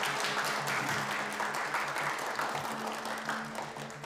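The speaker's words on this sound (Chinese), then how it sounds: "来，鼓掌。" Applause from an audience at a formal gathering, a steady wash of clapping held throughout with some background murmur underneath.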